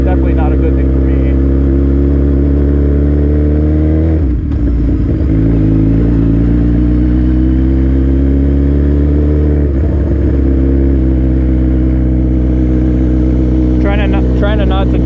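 A modified Suzuki GSX-R1000 motorcycle engine roars loud and close while riding, holding a steady high drone with brief dips near the four- and ten-second marks, as if from gear changes or throttle easing.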